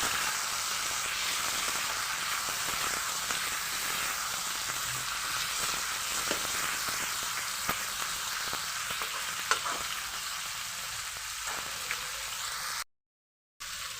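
Chicken pieces frying in a pan with salt for chicken biryani give a steady, close sizzle with occasional stirring scrapes, running unbroken until a brief silent gap near the end.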